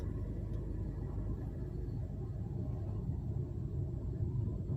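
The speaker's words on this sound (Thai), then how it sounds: "นี่ครับ ลมพัดแรงครับ" A loud, continuous low rumble of strong storm wind after heavy rain at the seashore buffets steadily throughout, with no voices.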